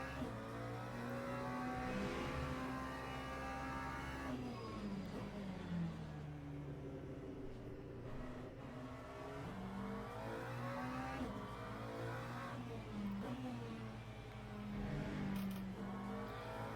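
A race car in Le Mans Ultimate accelerates hard through the gears, engine pitch climbing and dropping with each shift, loud and close over a steady rumble, with other cars' engines faintly around it.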